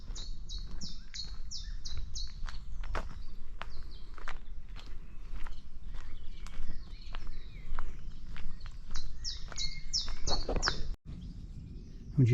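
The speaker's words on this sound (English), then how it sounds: "I'm pretty sure that's the chiff-chaff I can hear" A chiffchaff sings its repeated two-note song in bursts at the start and again near the end, over steady crunching footsteps on a morning country walk along the Hey Ho Way.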